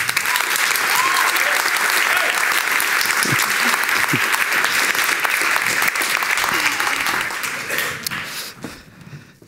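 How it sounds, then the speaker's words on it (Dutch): A large audience at an Amnesty International event on privacy bursts into loud, sustained applause for three students, dense clapping holding strong for several seconds before thinning out and fading near the end. "Geef een groot applaus aan Marlou, aan Luca en aan Nine."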